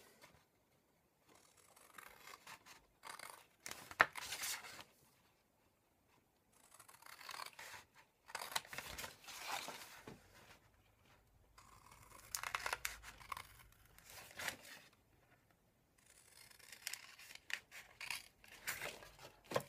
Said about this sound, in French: on va découper le papier en fait